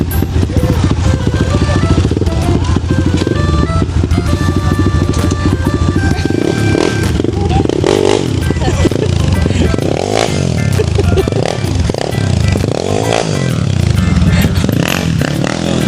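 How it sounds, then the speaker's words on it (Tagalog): A motorcycle engine roars loudly and continuously close by, its rumble rising and falling with revving, mixed with clatter and scraping and some background talk. "Ang lakas ng motor."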